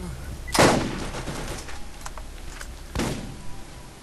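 Turret gunfire in Borderlands: two sharp, loud bursts about two seconds apart, each followed by lighter crackling and smaller pops as it fades.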